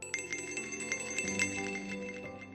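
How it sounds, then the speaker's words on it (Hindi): A bright, repeating electronic ring with quick pulsing tones, close and steady over a low hum. "जेब में रखे हुए फोन की घंटी बजती है"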